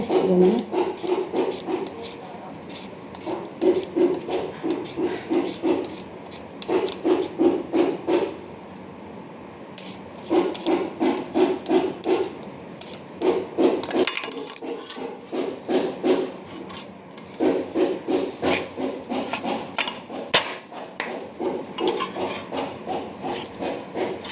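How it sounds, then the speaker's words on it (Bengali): Eggplants and potatoes being sliced into long strips with a knife on a board, a steady run of quick rhythmic cuts in short bursts with brief pauses, close and fairly quiet. "বেগুনগুলো কেটে আলুটাও লম্বা লম্বা করে কেটে নেব।"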